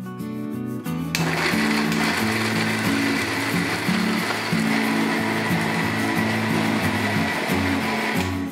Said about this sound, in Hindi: इसको अभी हम मिक्सी में से ग्राइंड कर लेते हैं।